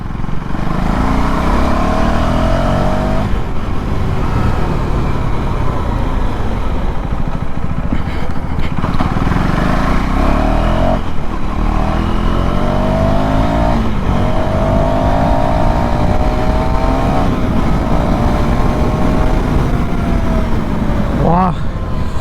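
A Royal Enfield motorcycle engine is ridden hard, with loud, close revving whose pitch climbs and drops through repeated gear changes over a constant rush of wind and road noise.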